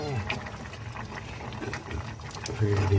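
Sinigang bangus, milkfish sour soup, simmers in a covered pot with soft bubbling and gentle patter under close, ongoing talk, growing louder toward the end.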